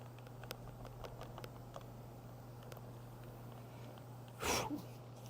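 A sneeze goes off around 4.5 seconds into a detailing session, with a steady mechanical hum and scattered light tapping throughout.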